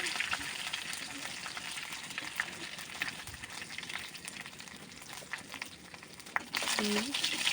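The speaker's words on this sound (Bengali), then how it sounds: "সম্বাসটা করা হচ্ছে। এই যে গরম গরম ডেকচির মধ্যে সম্বাসটা করে নিলাম।" Bay leaf, five-spice and dried chillies crackle in hot oil in a deep cooking pot as the tempering for khichuri fries, a steady close sizzle with small pops, briefly louder near the end.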